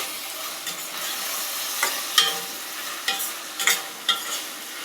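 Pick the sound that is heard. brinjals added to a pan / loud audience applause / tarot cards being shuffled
brinjals added to a pan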